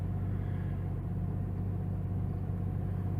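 A Jeep engine, whose idle air control valve is due for cleaning, sits idling with a steady, low, even rumble and no other sounds.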